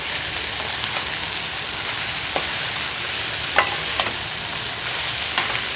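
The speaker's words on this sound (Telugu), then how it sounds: "దొండకాయలు అయితే బాగా వేగుతున్నాయండి" Ivy gourd pieces frying in a pan give a steady, close, dense sizzle, with a few soft stirring clicks scattered through it and no voices.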